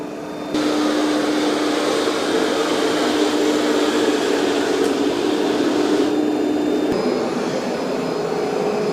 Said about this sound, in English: And so I did turn the vacuum up to the loudest or the most suction that it has right now.